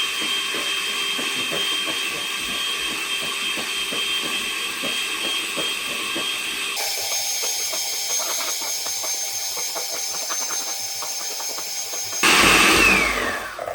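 A stand mixer whips Italian meringue for buttercream while butter is added bit by bit, a continuous whirring motor drone whose tone shifts partway through, then a louder burst near the end.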